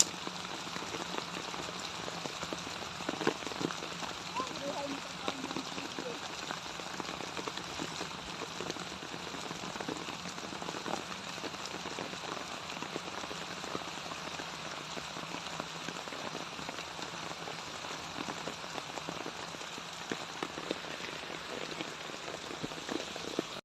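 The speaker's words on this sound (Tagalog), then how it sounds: "Kami po inabot na ng malakas na ulan." Heavy rain pours steadily over a hillside farm lot near Camp Laya, a dense, even hiss of drops hitting the ground and foliage that never lets up, with no voices.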